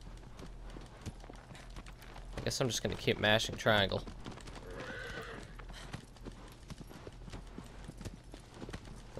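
Horse hooves clip-clop in Shadow of the Colossus on PS4, a rhythmic run of near, moderately loud footfalls with a whinny, while a player talks over it.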